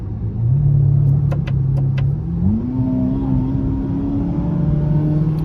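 A car engine runs close by, a steady low rumble whose pitch rises slightly as it revs, with a few faint clicks early on.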